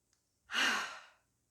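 Cleansing yoga breath: a single soft, airy exhale that swells quickly and then trails off slowly, close and quiet with no talking.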